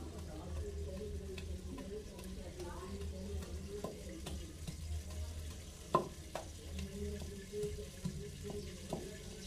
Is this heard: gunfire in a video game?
no